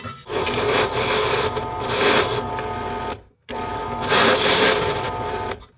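A drill bores a 1/2 inch hole in the metal enclosure of a DOD 250 overdrive clone pedal, two sustained grinding, whirring bursts split by a brief silent pause, close up with no voices.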